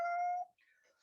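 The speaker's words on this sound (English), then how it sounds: "Shiloh, give me a minute. That's my kitty." A pet cat gives a single clear, fairly loud meow about half a second long indoors, then only faint, scattered background sounds.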